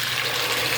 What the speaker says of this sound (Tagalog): So, maglagay na tayo ng tubig.